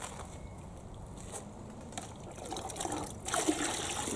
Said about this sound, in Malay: kita nak campurkan debu sertu, debu tanah dengan air mutlak